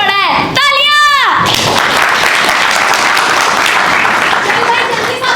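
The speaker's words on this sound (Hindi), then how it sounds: "तालियां।" Audience applause at a Hindi stage play, Kranti Doot: a brief voice opens, then a loud, dense wash of clapping from the crowd fills the rest, steady and close.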